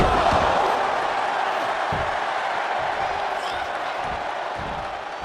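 Wrestling crowd in the WWE 2K24 video game during a SmackDown match, a steady loud roar of cheering and noise that fills the whole stretch without letting up.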